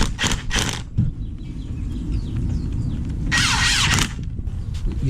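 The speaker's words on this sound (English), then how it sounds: "I'm going to just start tightening up all the bolts" Power tool running against the bolts on a Nissan 350Z rear end being set up for a 1JZ swap, a steady loud mechanical rumble with two short bursts early on and a stronger whirring burst near the end.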